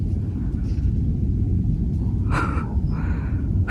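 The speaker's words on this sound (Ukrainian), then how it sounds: "Прям гримить і гримить." Thunder in a rainstorm gives a continuous low rumble, loud and steady throughout, with a brief brighter crackling burst partway through and another fainter one near the end.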